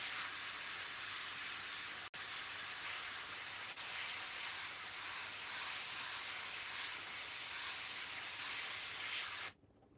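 An airbrush sprays paint for vintage sign lettering as a steady, close, even hiss that runs almost the whole time, broken by one brief gap before cutting off near the end.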